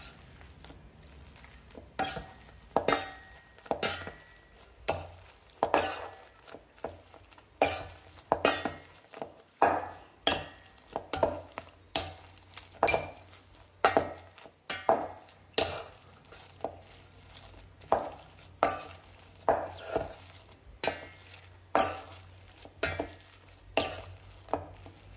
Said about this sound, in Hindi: अब हम इसको करेंगे मैश